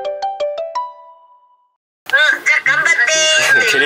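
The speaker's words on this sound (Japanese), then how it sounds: "テレビ電話来た。" Incoming video-call ringtone on a phone: a bright five-note chiming melody with ringing decay, then a brief pause before people start talking in lively, excited voices.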